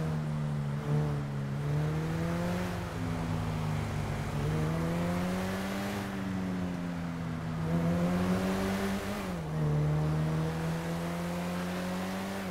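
A car driven in GTA V, its engine droning steadily and loud, the pitch rising and falling as it shifts gears and revs, with no voices over it.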